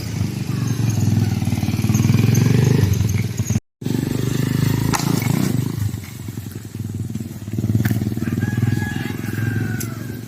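A motorcycle engine revs loudly during riding practice, swelling and easing with a clattering idle in between and a brief cut partway through.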